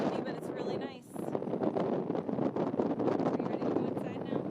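Wind buffets a microphone on an ocean lookout, a steady rough roar with gusts that dip briefly near the start, with a voice faintly mixed in underneath.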